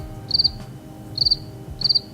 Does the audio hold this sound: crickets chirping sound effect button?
yes